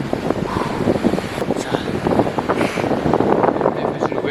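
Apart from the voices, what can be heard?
strong gusts of wind in rain on coast trail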